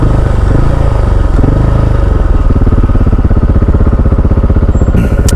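KTM 690 SMC R single-cylinder supermoto motorcycle on an easy first ride, its engine thumping steadily and loudly close by, with a brief rise in revs near the end.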